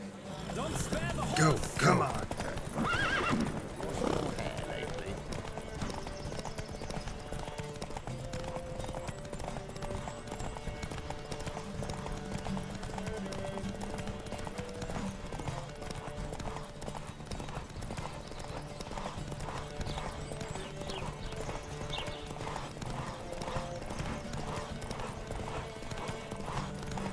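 Horses galloping hard in a race in The Witcher 3, a steady rapid drumming of hooves held close and loud throughout, with a shout and snorts early on and continuous motion noise underneath.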